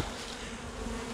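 A dense, steady drone of honeybees swarming close around a hive in a garden apiary, unbroken and fairly loud.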